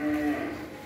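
Cattle on a Long An breeding farm supplying large cattle, one loud, close, drawn-out moo against a busy farm background.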